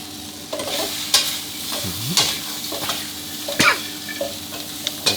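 Egg tofu and chopped spring onions stir-fried in a hot pan, a steady sizzle broken by several sharp scrapes and clacks of the spatula against the pan, close and fairly loud, with no talking.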